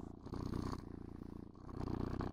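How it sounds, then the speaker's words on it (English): A cat-like purring avatar sound in the game VRChat, a soft, steady rhythmic rumbling purr heard close and alone, with a brief dip midway. "And listen to the purrs too, chat."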